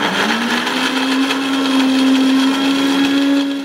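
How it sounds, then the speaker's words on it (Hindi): Electric mixer grinder blending papaya pieces into a paste without water or milk, a loud steady motor whir that rises slightly in pitch and runs continuously up close, no voices. "अब पपीते के गूदे के इन टुकड़ों को हम मिक्सी में डालकर पीस लेंगे ताकि इसका पेस्ट बन जाए।"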